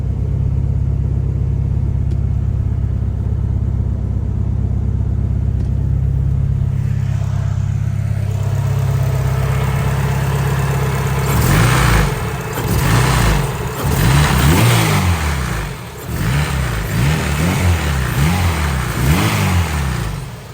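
Turbocharged H22 Honda Accord engine idles with a deep rumble, then revs repeatedly in loud rising and falling bursts, turbo spooling on each climb, close and without talk.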